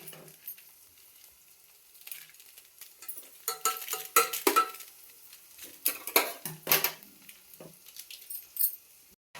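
Maggi masala is stirred through noodles in a pan, giving soft, irregular scraping and clinking strokes with a light sizzle underneath, close and fairly quiet.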